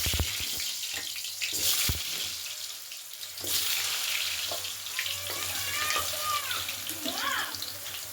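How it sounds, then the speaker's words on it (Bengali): Steady crackling sizzle of potatoes frying in hot oil, with brief louder bursts and clatter near the start; no one speaks. "আলুটাকে লাল লাল করে ভেজে নিতে হবে"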